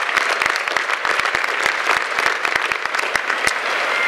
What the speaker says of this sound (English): let's give another round of applause to your family, especially to all of the fathers out there on this beautiful Father's Day